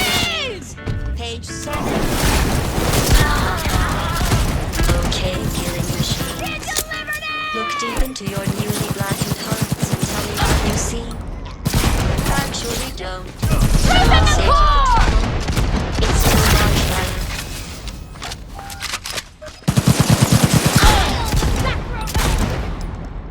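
Gunfire bursts and crashing impacts from the video game Cyberpunk 2077, loud and repeated in clusters, mixed with game voices talking throughout.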